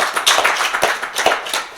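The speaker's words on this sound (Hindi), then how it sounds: "तो एक ताली बजा के हम विमेन को ऑनर करना चाहते हैं।" An audience at a church sermon claps together to honor women. The applause is close and fairly loud, with dense, steady hand claps throughout and no speech.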